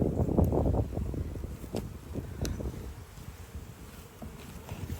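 Honeybees buzzing around an open hive during an inspection, a close, dense hum with louder swells early on that fades to a softer drone, plus light wind noise on the microphone.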